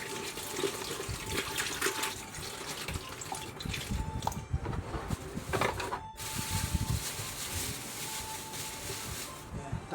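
Water runs from a tap into a container of vegetables being soaked in a home kitchen, a steady splashing gush that continues throughout with a brief break near the middle.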